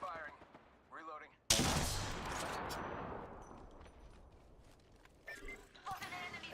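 Gunfire in the battle royale shooter Apex Legends: a sudden loud burst of shots that rings out and decays through a noisy firefight, with a voice talking briefly before it and more game sounds after.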